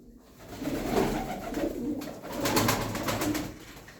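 Soft, low cooing from several Hünkari pigeons, repeated in two swelling bursts with a faint rustle of wings and ambient noise, no talking.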